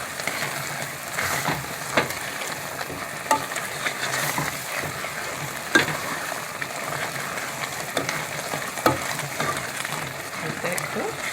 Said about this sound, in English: And then we're going to add our maple syrup to sweeten. We're going to stir that.